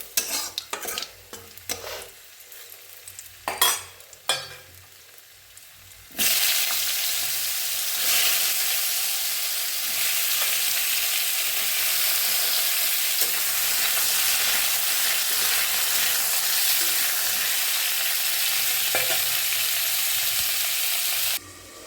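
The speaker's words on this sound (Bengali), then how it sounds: "জিরে ফোড়ন দিয়ে সবজিগুলো আমি ভাজতে দিয়ে দিই।" Radish and potato pieces frying with cumin seeds in a pan, a few sharp clinks and scrapes first, then a loud, steady sizzle that starts abruptly and holds with occasional stirring.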